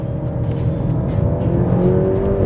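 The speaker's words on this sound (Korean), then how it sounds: "그레칼레 모데나 모델 같은 경우는 좀 더 큰 엔진음과 좀 더 큰 배기음을" A Maserati Grecale Modena in normal mode delivers a steady, close engine and exhaust drone, a low throbbing rumble that builds slightly as it accelerates, with no talking.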